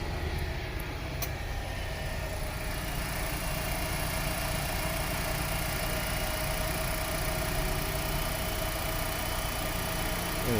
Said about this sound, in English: Car started up.